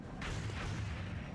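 A reaction shot fired in the game XCOM Long War, a single muffled, booming gunshot that rolls on briefly as a dull rumble; no voices.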